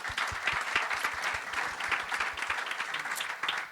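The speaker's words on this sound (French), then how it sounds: "On peut applaudir pour le Seigneur" A church congregation claps for the Lord, an even rhythmic applause with distinct hand claps over a crowded wash, moderately loud and steady throughout.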